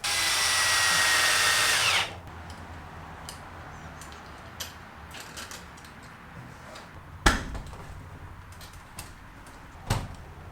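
Power drill driving a long bolt while mounting a Hyperlite LED shop light: a steady whirring run for about two seconds that stops abruptly, followed by quiet room tone with a few faint knocks and two sharper clunks.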